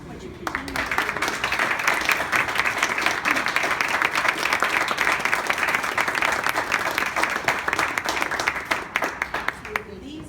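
Steady, sustained applause from an audience at a children's charity donation event, dense clapping running for about ten seconds at an even level, with faint voices at the start and end.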